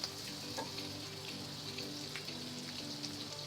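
Sliced onions fry in a pan for chili chicken, a faint, even sizzle like light rain with a few soft stirring knocks, heard alone and quietly.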